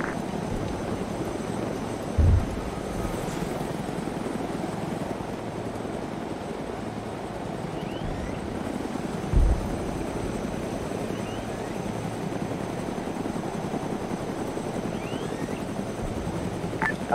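Helicopter in the ArmA 3 video game, a continuous whirring rotor and engine drone holding steady throughout with two brief thumps, no voices over it.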